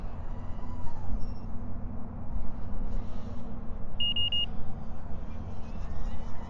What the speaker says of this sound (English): So you're gonna have to excuse the beeping.